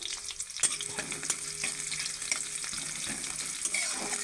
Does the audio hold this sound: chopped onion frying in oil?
yes